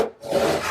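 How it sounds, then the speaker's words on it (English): Short hand saw stroke cutting a wooden mitre on cupola trim in a woodworking shop, a brief rasping rub that swells after a quiet gap, close and alone. "I think that the best way to cut the mitres on these horns is to use my hand saw."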